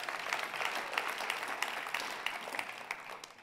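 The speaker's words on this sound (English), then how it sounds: "Can you clap for that?" Steady audience clapping fills a hall at a church gathering, a dense wash of many hands sustained evenly throughout without a break.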